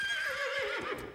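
A horse gives one shrill, wavering whinny that slides downward and fades over about a second, with faint thuds underneath.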